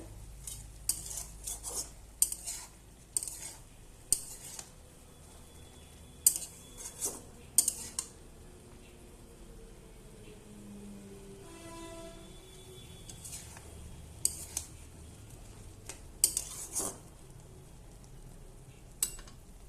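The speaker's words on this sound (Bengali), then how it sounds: "এবার আঁচ বাড়িয়ে শুধু নাড়বো" A spoon stirs fish roe with vegetable stems in a pan over high heat, making scattered scrapes and metallic clinks against a quiet background, with a faint soft sizzle and no talking.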